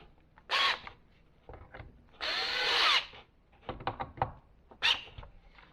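A power drill drives and tightens screws on an Ego LB6000 backpack leaf blower during a repair, sounding in several short, loud whirring bursts separated by quiet pauses and small handling clicks.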